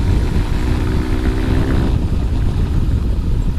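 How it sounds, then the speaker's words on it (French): A motorcycle fitted with a Leo Vince exhaust with catalysts and baffle idles close by, a steady low throbbing rumble with an uneven beat and no talking. "Essayer de vous faire écouter le son de la moto."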